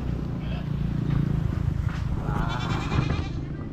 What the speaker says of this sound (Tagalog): Kambing natin nanghingi ng pagkain